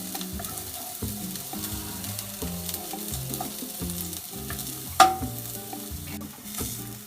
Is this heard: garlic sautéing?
yes